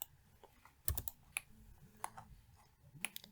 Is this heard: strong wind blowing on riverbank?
no